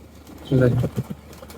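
Domestic pigeons coo at feeding time, a short low burst followed by a couple of softer throaty pulses, close by, with no one talking.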